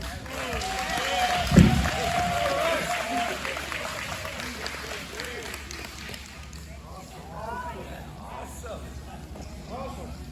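Crowd applause and cheering after a Juneteenth speech, loud at first with a short vocal shout, then settling into scattered clapping and murmuring voices.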